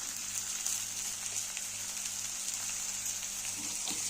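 Tomato and ginger-garlic paste fry with potatoes in a pan, giving a steady, even sizzle with soft crackles, close and moderately quiet with no talking.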